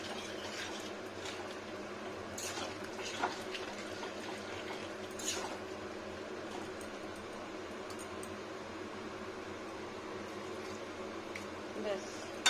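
Filtered water poured into a pan of simmering vegetable curry with ridge gourd, pointed gourd, potato, cauliflower and tomato, giving a soft, steady liquid rush that runs on without a break and stays low and even throughout.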